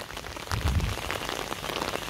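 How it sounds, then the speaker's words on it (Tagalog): Heavy rain pours down steadily, a dense hiss of drops hitting surfaces with a louder swell near the start, no voices. "Lumakas na ng todong-todo ang ulan."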